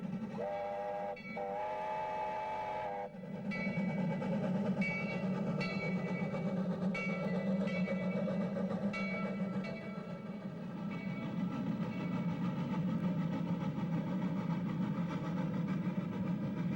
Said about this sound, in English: the engineer pulls out the throttle of the steam locomotive and begins the steep, curving climb to the summit of Bear Mountain